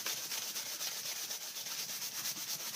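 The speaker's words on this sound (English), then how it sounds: "Let me just finish rubbing." A sheet of foil is rubbed by hand to reveal its colors, a soft, steady, close-up swishing scrape repeating in quick strokes, faint and continuous without any talking.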